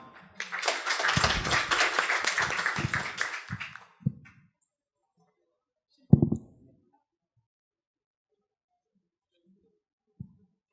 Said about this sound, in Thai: ขอเสียงปรบมือและเรียนเชิญครับ